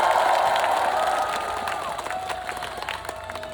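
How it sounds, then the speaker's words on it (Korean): Applause and crowd noise from an outdoor audience at a cheese festival concert in Imsil, steady clapping that starts loud and fades slightly over a few seconds with no talking. "박수 한 번만 쳐주세요"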